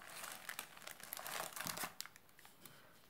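Baking paper is pulled out from under a cabbage leaf in a baking dish: soft, faint crinkling and rustling with small sharp crackles over a few seconds.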